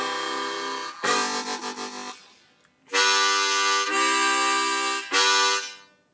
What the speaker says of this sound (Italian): un'armonica in Do basso, low sta proprio per più bassa di un'ottava, suona così.